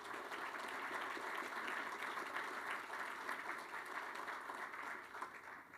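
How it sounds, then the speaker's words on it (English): Steady, sustained audience applause at a university athletics press conference, a dense even clapping wash that holds at full level for about six seconds with no talk over it. "How about a round of applause for that?"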